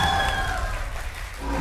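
Steady applause from a studio audience at a Vietnamese TV quiz show, a dense crackle of many hands clapping that dips slightly midway, then swells again toward the end.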